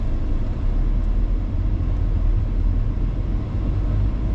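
A car drives slowly down a steep hill from a house, its engine and road rumble low and steady, close and continuous with no talking.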